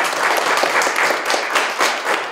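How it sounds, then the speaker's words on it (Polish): Loud, continuous applause from an audience at a Polish event honouring contributors, many hands clapping in a dense, even wash with no voices on top. "Wielkie brawa."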